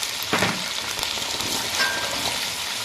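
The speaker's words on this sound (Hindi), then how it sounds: "ये देखें हमारा चिकन ज़बरदस्त फ्राई हो गया है" Peshawari charsi chicken sizzling and frying in a karahi, a dense, loud, steady crackle with occasional stirring scrapes, close up and uninterrupted.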